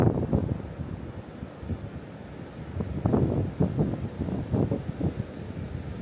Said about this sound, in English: I don't know if you guys can hear that, but it is super windy outside.